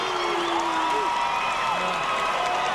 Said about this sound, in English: That was a cheer from the Cooper side, the thunderous cheer as their cheerleaders are starting to spell out Cooper now